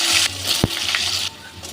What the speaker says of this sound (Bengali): এবার আমি একটু ছোট ছোট করে কেটে রেখেছি আলু, 2টো আলু, এটা আমি ভেজে নেব।